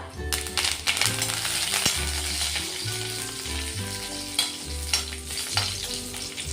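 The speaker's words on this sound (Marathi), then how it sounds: "चांगला कुरकुरीत होईपर्यंत आपण तळून घेऊ आता" Curry leaves crackle and sizzle in hot oil close up, with stirring scrapes and clinks from the pan throughout.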